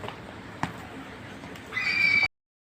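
A mare whinnies once, a brief high call that rises near the end over steady outdoor background noise and faint knocks.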